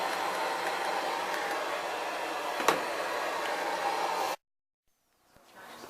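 An air conditioner runs inside a room with a steady, even, broadband rushing hum. It cuts off abruptly near the end, leaving near silence before faint background noise returns.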